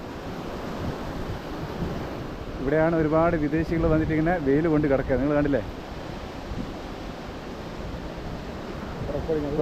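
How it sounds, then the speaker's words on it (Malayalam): Surf washing onto the main sunbathing stretch of Kovalam beach, a continuous broad rush of waves and wind at moderate level, with someone talking over it for a few seconds. "ഇതാണ് കേട്ടോ കോവളം ബീച്ചിൻ്റെ മെയിൻ സൺബാത്ത് ഏരിയ"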